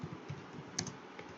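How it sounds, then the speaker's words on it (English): Keys tapped on a computer keyboard while entering Python code, a short run of soft, close clicks with one slightly louder keystroke near the middle, no voices. "If we just type in print"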